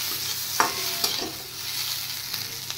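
Chopped tomato frying in a pan for a makhana dish, with a steady close sizzle under repeated scrapes and knocks of a stirring spoon at irregular intervals.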